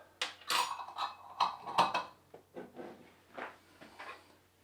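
Whisk or spoon clinking and scraping in a bowl while pancake batter of milk and a little vinegar is mixed, a quiet series of irregular taps and scrapes in a kitchen.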